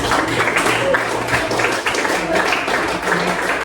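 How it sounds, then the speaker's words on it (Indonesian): Classroom applause for a study group: continuous clapping from the pupils, close and fairly loud, with children's voices chattering underneath throughout. "Silakan boleh tepuk tangan untuk kelompok belajar."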